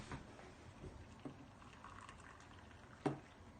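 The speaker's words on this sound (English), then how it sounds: "Add some hot water." Boiling water pours and bubbles quietly into a military ration meal, with a few soft clinks and splashes, faint and close.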